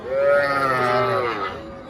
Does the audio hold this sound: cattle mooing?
yes